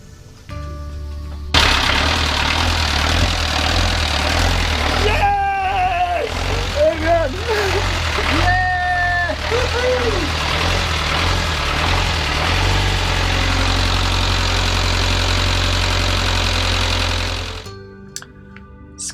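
A sailboat's engine runs steadily with a low droning hum and vibration throughout, loud and continuous, while voices and tonal squeals rise over it in the middle before the sound drops away at the end.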